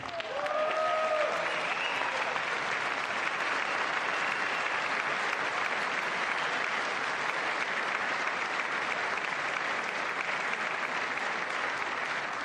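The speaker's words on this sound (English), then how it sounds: "I wasn't sure if anybody even on this side was going to applaud for that." Sustained applause from a large crowd in the chamber of Congress during a State of the Union address, a dense roar of clapping that starts abruptly and holds steady throughout.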